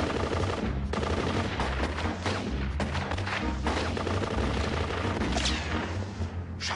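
Rapid bursts of gunfire and machine-gun fire crackle and boom loudly and continuously, dense volleys layered with heavy thuds throughout.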